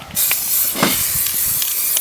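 An aerosol can sprays black paint onto a car wheel in short hissing bursts, the longest spray sounding close and continuous between brief pauses.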